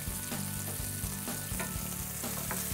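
A seasoned wild cod fillet sizzles steadily in a hot pan as it is flipped, a close, bright frying hiss with a few soft scraping taps and no voices.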